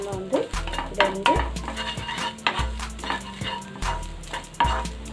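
Coconut roasting in a pan for rice balls, heard as a soft sizzle broken by repeated scraping stirs of a spatula against the metal, close up, with faint background music and no speech.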